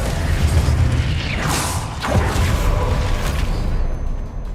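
A loud booming blast of the Confringo fire spell in Hogwarts Legacy, with a rushing whoosh and a deep rumble that swells, peaks around the middle and fades amid ongoing battle effects.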